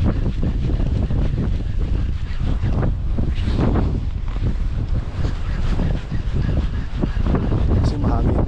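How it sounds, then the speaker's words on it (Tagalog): Strong wind roars across an open fishing boat at sea, with steady buffeting microphone gusts and surf underneath throughout, close and loud, while a voice talks faintly in the background. "Kasi mahangin."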